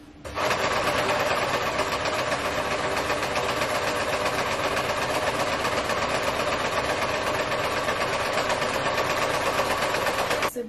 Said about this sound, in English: So I'm just going to have to overlock in white.